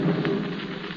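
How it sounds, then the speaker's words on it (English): Thunder from an electrical storm, as a radio drama sound effect, rumbles loud and close in a dense, rain-like roar with no voices over it. "Sounds as though we're due for another electrical storm tonight."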